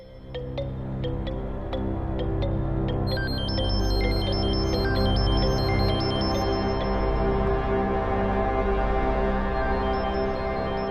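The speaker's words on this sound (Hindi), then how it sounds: "फोन की आवाज आ रही है।" A phone ringtone in a film scene plays a thin, high electronic melody that comes in after a few seconds and repeats faintly over a low, steady background hum.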